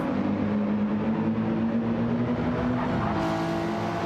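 Toyota Supra race car roaring at speed on the oval in a racing game, a loud, steady engine drone with a sustained pitch that shifts late on, continuous throughout with no talk.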